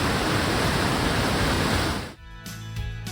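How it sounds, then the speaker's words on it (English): A steady, loud roar of rushing water from the wide Niagara River beside Niagara Falls in winter, a dense broadband wash that cuts off abruptly near the end. "The Niagara River is wide and mighty, and the sound of the water is a constant,"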